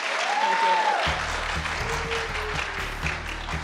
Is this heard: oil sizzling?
no